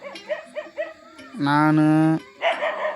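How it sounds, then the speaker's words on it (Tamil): Dogs barking at night outdoors, a quick run of sharp barks followed by a long sustained howl-like whine, with a person talking briefly nearby. "நாயெலாம் குலைச்சின்னு இருக்குது காய்ஸ்."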